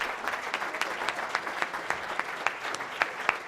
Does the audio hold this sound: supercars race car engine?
no